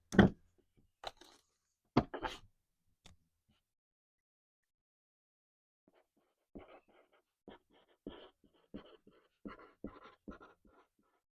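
A pen writes labels for plant cuttings: faint close scratchy strokes come in short bursts with a few taps, separated by quiet gaps.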